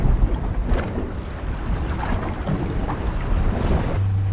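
A fishing boat at sea off Norway rides three-to-four-metre waves in a wind around 40 km/h, with constant roaring wind buffeting the microphone, sloshing water and a low engine rumble.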